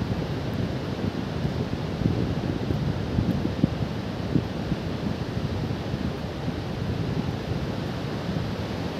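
Continuous rushing wash of Arabian Sea waves on Al Mughsail beach near Salalah, Oman, with wind buffeting throughout and no distinct breaks between swells.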